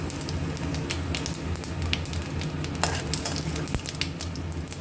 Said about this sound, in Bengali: এবার এই বেগুন ভাজা তেলের মধ্যে দেব ফোড়ন চিড়ে তেজপাতা আর শুকনো লঙ্কা